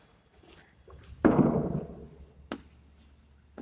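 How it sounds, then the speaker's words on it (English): Chalk or marker writing on a board during a physics lesson on light: a short burst of scratchy strokes, loud and close, then a single sharp tap, with brief quiet gaps around it. "let me write this one."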